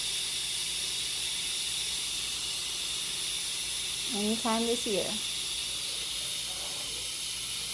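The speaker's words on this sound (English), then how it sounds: "we want to wait until the quick release is done, letting out all the smoke and steam" A pressure cooker on quick release vents steam in a steady, loud hiss that stays constant through the whole clip, with a brief spoken remark heard over it near the middle.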